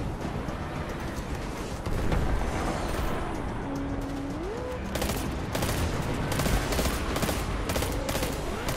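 Pulse rifle burst fire in Destiny 2, rapid dense volleys of game gunfire cracking over and over, loud and continuous with brief lulls between bursts.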